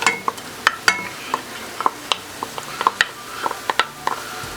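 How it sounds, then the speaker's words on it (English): Onions frying in a pan with browned fond for beef bourguignon, a light sizzle broken by frequent sharp clicks and scrapes from a utensil stirring against the pan, close up, no one speaking. "I'm going to add the onions."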